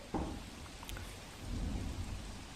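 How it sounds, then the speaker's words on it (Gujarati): Rain falling across parts of Saurashtra, Gujarat during the monsoon, a steady wash of noise with a brief sharp crack early and a slightly heavier stretch later, no voices. "સૌરાષ્ટ્રના ભાગોમાં પણ વરસાદ વરસી રહ્યો છે"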